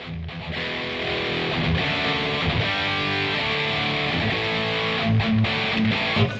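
An electric guitar plays through Marshall JMP-1 preamp presets with a heavily distorted, overdriven tone, continuous thick chords and some brief accents.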